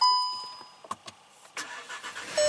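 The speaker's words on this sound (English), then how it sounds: "Start the car up." A 2019 VW Jetta with a P0011 camshaft timing fault cranks and starts, with short clicks and chimes before a sudden rough engine catch near the end, close by and moderately loud.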